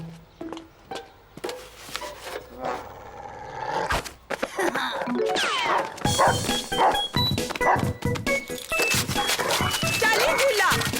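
A dog barks repeatedly, close and loud, with yips and whimpers mixed into bursts of excited woofs, and a person talks over parts of it.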